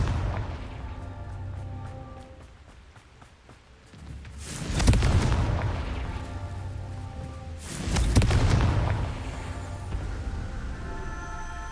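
Two loud blasts from the Confringo fire-blast spell in Hogwarts Legacy, each a booming burst with a long rumbling tail, spaced a few seconds apart over a murmuring game background.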